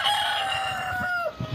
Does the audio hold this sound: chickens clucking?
yes